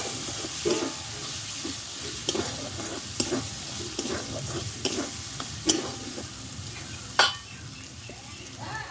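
Fried masala and grated coconut stirred in a pan for Bengali aloo dum, a continuous sizzle with repeated scraping strokes and occasional sharp clinks of the spoon, close up.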